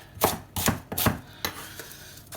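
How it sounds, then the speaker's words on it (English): A knife roughly chops shallots on a cutting board with about five crisp, close thuds at an uneven, unhurried pace and quiet pauses between strokes. "I've got some spare shallots, which I'm just going to chop up rough to go into the veg stock"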